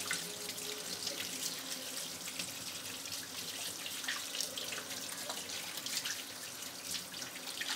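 Hands being washed and scrubbed under a running sink tap, a steady close splashing of water with light rubbing and dripping, no talk.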